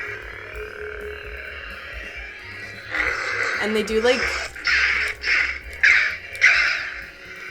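A Star Wars lightsaber toy switched to its blue setting gives a steady electronic hum, then a warbling tonal sound, while a person talks over it nearby.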